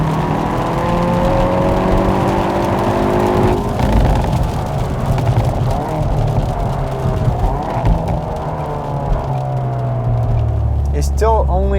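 A Hyundai Veloster N with an 8-speed dual-clutch gearbox accelerates hard from a launch in the rain, engine revving loudly and climbing through several quick upshifts, with a voice talking over it.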